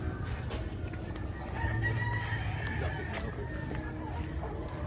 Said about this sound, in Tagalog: Wow, mga manok na din oh.